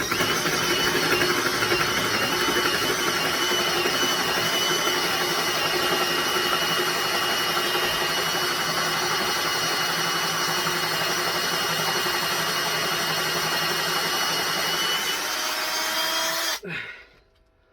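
Corded drill running in low gear as a Pro Fit holesaw cuts into wood, a loud steady whining drone held for about sixteen seconds before cutting off abruptly and winding down.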